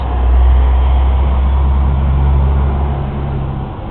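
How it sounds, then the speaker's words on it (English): A loud truck passes near a home garden, its deep engine rumble dominating the scene and easing gradually as it moves off. "yeah, loud truck."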